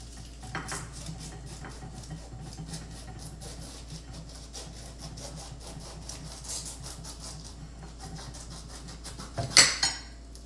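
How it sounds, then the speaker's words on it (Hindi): A sharp knife slices a pineapple resting on a plate, giving soft repeated scraping and cutting strokes with light clinks against the plate, ending in a brief louder scrape. "एक शार्प नाइफ लेके और इसको इस तरह से काटें।"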